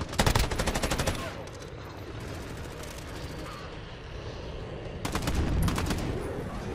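Loud bursts of rapid gunfire from a burst weapon in Call of Duty Modern Warfare open the clip and return near the end, with a low battlefield rumble running between them.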